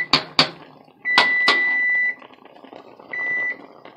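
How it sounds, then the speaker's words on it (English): A kitchen timer goes off while guanimes cook on the stove: a few quick clicks, then a long steady electronic beep and a shorter second beep, alone with no talk. "And there goes my timer."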